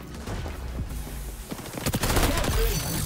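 Gunfire in the video game XDefiant, including M9 shots in a Domination match, rattles in rapid close bursts and sharp cracks, with a player talking over the exchange.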